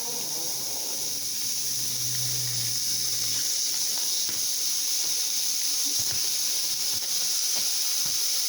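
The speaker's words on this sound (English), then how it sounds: "Take our meat, put it on the griddle." Thin sliced meat sizzles on a hot griddle for a Philly cheesesteak, a steady close hiss and crackle with a brief low hum early on and no talking.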